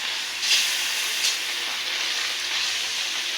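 Spice paste fries in hot oil for a roast, giving a continuous soft hiss and sizzle at moderate volume, with a couple of brief brighter spatters early on and no talk.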